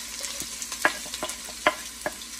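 Onions and green chili sizzle in three tablespoons of oil for Mandi rice, with a steady low fry hiss broken by sharp, irregular scrapes and clacks of a utensil stirring the pan close by.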